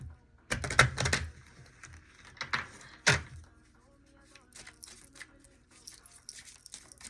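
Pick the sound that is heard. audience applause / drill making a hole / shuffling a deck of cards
shuffling a deck of cards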